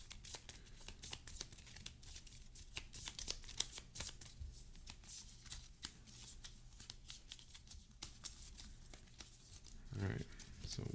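Playing cards are shuffled up close, with a rapid run of crisp riffling clicks and a brief rustle near the end.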